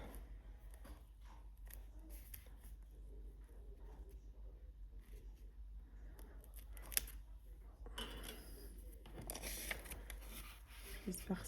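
Scissors snip through paper while a vintage-style scrapbook album is assembled by hand, giving close, crisp cutting sounds in short irregular bursts that grow louder and denser toward the end over a low steady background hum.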